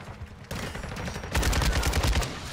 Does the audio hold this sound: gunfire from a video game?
yes